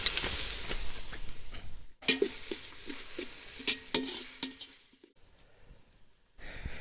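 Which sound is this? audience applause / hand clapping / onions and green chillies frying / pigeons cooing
onions and green chillies frying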